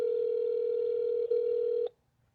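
A steady telephone line tone holds for about two seconds while a scam call is put on hold for transfer, with a brief dip near the end before it cuts off abruptly into silence.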